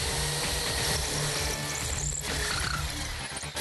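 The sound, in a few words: masonry drill bit drilling into brick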